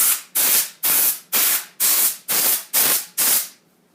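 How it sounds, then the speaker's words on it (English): Compressed air sprayed into a computer's drive bay to blow out dust gives seven sharp, loud hissing bursts in an even rhythm, close to the mic, then stops. "Move it to the front of the computer and spray your drive base off."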